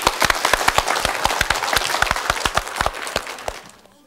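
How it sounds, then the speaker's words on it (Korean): Audience applause at a stage show, a dense run of clapping with sharp individual claps standing out, steady at first and then thinning and fading away near the end. "박수 좀 청해 주시겠습니까?"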